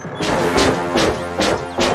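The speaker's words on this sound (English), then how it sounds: "if he were to hear the sound of glass breaking" Cartoon glass-breaking effect from Tom and Jerry: four loud, sharp crashing smashes in quick succession, each with a short shattering tail.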